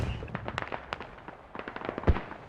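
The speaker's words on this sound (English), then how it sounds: "Artillery inbound." Artillery shells bursting in the military shooter Squad during a competitive match on the Chora map: a rapid, crackling string of distant explosions, fairly quiet overall, with one sharper, louder blast standing out near the end.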